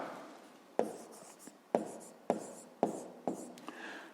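A pen or pencil writes by hand in a notebook during a fifth-grade maths exercise. Sharp strokes and taps come in a fairly regular rhythm, about one each half second, with softer scratching between them. The sound is close and clear, with no talking.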